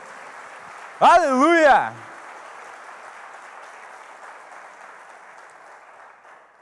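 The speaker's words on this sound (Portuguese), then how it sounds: "Então dê um aplauso forte ao Senhor" A church congregation applauds in a steady, broad wash of clapping that gradually fades. A voice shouts a short exclamation over it.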